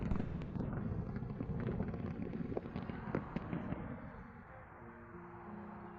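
A continuous rumbling roar of fireworks with scattered crackles and pops, gradually thinning out toward the end; nobody speaks.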